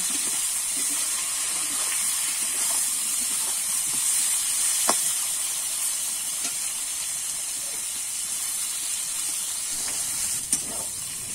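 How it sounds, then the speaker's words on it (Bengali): Jackfruit with salt and turmeric frying in a pan, a constant bright hiss of sizzling oil with faint occasional scrapes of stirring, steady and close throughout. "দিয়ে কিন্তু আমি নেড়ে চেড়ে এঁচড়টাকেও লাল লাল করে ভেজে নেব"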